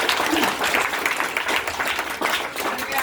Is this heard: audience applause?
yes